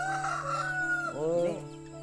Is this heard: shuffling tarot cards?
no